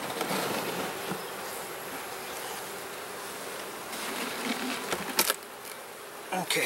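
Honeybees buzz in a dense, continuous drone close by in a hive after smoking, with a few sharp knocks and clatters near the end.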